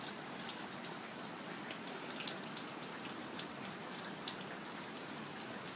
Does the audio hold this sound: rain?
yes